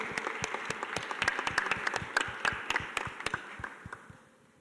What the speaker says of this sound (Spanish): Vamos a darle un fuerte aplauso